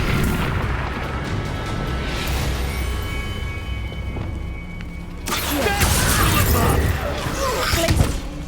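Incendio fire spell erupting in the video game Hogwarts Legacy, a loud whooshing fiery burst rising suddenly over ongoing game music and ambience, with a voice speaking.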